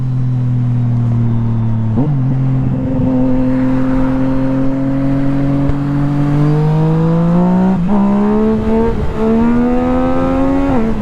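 A Honda 1000RR sport motorcycle engine, reported as seized, drones loudly and close with a steady harmonic tone, rising in pitch with throttle blips around the middle and again near the end.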